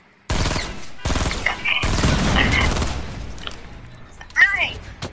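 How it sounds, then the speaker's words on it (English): Grenade launcher blasts in a video game, several heavy, close booming shots in quick succession, followed by quieter scattered game sounds and a short sharp burst near the end. "there's double grenade launchers"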